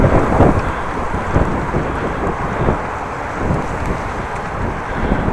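Headwind buffeting the microphone while riding a bicycle on a windy morning in the Netherlands, a continuous low, rumbling roar with gusty swells and no talk.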